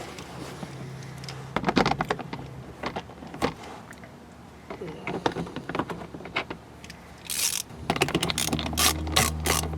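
A ratchet tightens screws on a base plate of a 2023-2025 BMW X7 M60i, quick clicking bursts repeating in uneven runs, close and clear with no talk.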